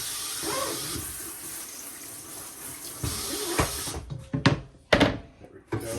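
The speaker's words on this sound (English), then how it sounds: "Give the board a rinse." Water from a kitchen tap runs over a cutting board being rinsed after cutting pineapple, a steady splashing stream broken by a few louder knocks and clatters as the board is handled near the sink.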